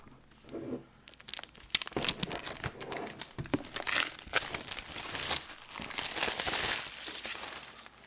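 Cardboard box packaging of a Keychron K3 Retro mechanical keyboard being torn and opened, with steady close crinkling, crunching and ripping over several seconds and no talk.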